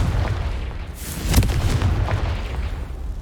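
A Confringo spell explosion in Hogwarts Legacy, a single loud boom bursting out of a dense rumbling battle din and fading into continued low roar.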